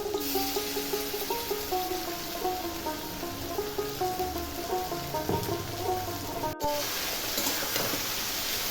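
A paste of green chilli, tomato, onion, ginger and garlic sizzles steadily in a pan for mushroom curry, a soft continuous hiss with faint stirring scrapes under quiet background music.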